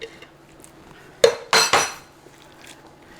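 A metal loaf pan being picked up and set down in a home kitchen, giving a sharp clank followed by two quick metallic rattles, close and alone in a quiet room.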